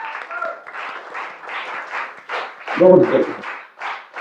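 An audience at a ceremony honouring toppers claps loudly and steadily throughout, with a voice briefly speaking over the applause.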